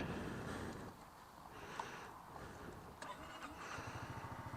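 A Honda ADV 350 scooter engine starts up with a short mechanical whir, then settles into a low, steady idle around 1800 rpm, heard close with background hiss.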